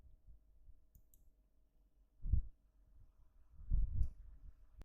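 A computer mouse gives a few soft, close clicks, a pair near the middle and a cluster toward the end, over a faint steady hum in a quiet room.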